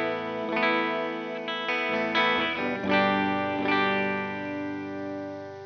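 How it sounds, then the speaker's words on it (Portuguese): Clean electric guitar played through a pedalboard with effects switched off, a few ringing chords and single strummed notes that sustain and overlap, loud and close with no talking. "A guitarra clean é assim"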